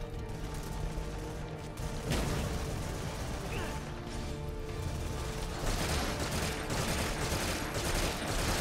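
Assault rifle fire in the video game Metal Gear Survive, heard as dense, continuous crackling bursts layered over a busy game mix, with some mechanical clatter throughout.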